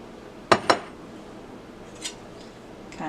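A couple of sharp metal clinks of a utensil against a pan as eggs are flattened out in an oiled pan for a one-handed omelet, then a fainter tap and quiet kitchen background.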